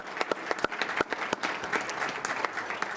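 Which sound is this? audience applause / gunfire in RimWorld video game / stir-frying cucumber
audience applause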